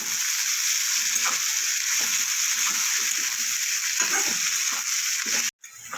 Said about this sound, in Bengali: পেঁয়াজটা আমার অনেকটা ভাজা হয়ে গেছে